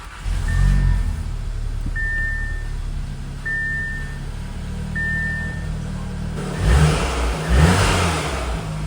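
An Audi S3 engine with an Integrated Engineering air intake rumbles and revs up loudly, steady engine drone throughout, several short high beeps near the start, and surging revs toward the end.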